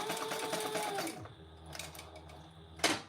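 A sewing machine runs steadily for about a second while stitching a seam allowance on a sling bag, then stops, leaving a low hum and a few small clicks, with a brief clatter near the end.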